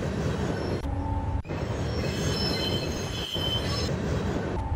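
Container train in the SimRail rail simulator, a Dragon locomotive hauling container wagons, rumbling steadily and loudly close by, with wheels squealing on the rails and a brief dip partway through.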